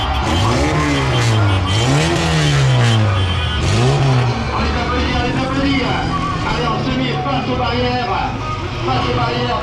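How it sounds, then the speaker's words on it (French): Stunt cars parade past a crowd at a stunt show, their engines revving and rising and falling loudly up close, with tires squealing, under an announcer speaking French. "ces voitures défilent"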